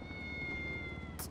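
A cat in the video game GTA 5 lets out a single short, clear meow, close and moderately loud, followed by a brief bright burst near the end.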